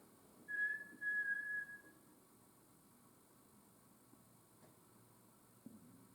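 A short whistled tone, two brief sustained notes close together, fairly clear over a quiet hum of background noise, then nothing more.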